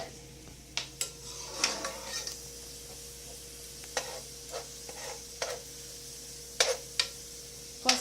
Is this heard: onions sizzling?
yes